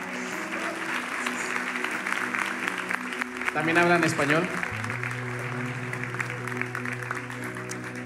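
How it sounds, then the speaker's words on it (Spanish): A church audience gives steady, hearty applause for a visiting pastor during a worship service, the clapping rising and holding under a spoken voice and soft background music. "Podemos dar un fuerte, fuerte aplauso,"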